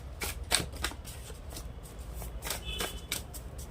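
Tarot cards from a channel deck being shuffled, a soft, fairly quiet rustle of repeated quick riffles and slaps, close to the listener.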